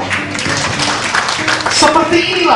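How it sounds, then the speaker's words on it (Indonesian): Parents at a parenting seminar clap together in a short burst of close, rhythmic applause in an indoor room, with voices mixing in. "Tepuk tangan yuk."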